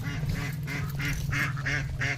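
Domestic ducks at a home yard quack in a quick series of nasal calls, several birds close by, with rural yard ambience underneath.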